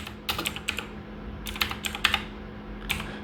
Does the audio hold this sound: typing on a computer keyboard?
yes